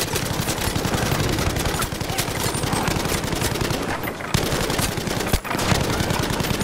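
Medium machine gun in Battlefield 5 firing long sustained bursts, rapid evenly spaced shots, loud and close, with a brief pause near the end before the firing resumes.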